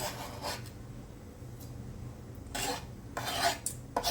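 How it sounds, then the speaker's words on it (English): A knife chops garlic on a cutting board in a home kitchen, giving a few scattered, sharp taps and scraping strokes that grow denser toward the end, with no talking. "And then I'm going to chop my garlic."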